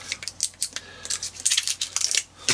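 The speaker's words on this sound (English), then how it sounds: "A pair of scissors there, look." A pair of scissors is picked up and handled close by, giving a series of sharp clicks, snips and light metallic taps at an irregular rhythm.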